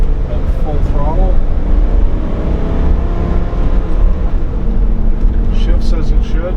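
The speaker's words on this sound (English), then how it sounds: "We're going up a hill at full throttle." A 2003 Ford Excursion Limited engine pulls at full throttle up a hill, a loud, steady drone heard from inside the cabin.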